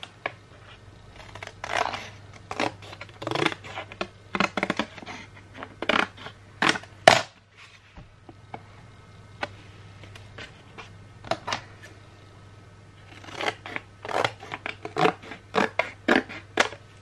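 Scissors snip through a soap mold liner in short bursts of crisp cutting and rustling, close by, with a pause midway before a second run of cuts.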